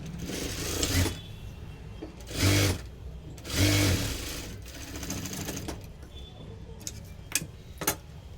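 A sewing machine stitches a folded-in seam on a size 32 four-tuck blouse, running in a few short whirring bursts with pauses and light ticking between them.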